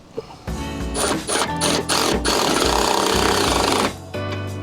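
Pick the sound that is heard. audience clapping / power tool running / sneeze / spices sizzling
power tool running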